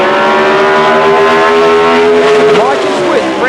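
Top Alcohol drag race cars launch down the strip at an ANDRA drag racing event, their engines a loud, sustained roar that rises in pitch, with a commentator talking over it.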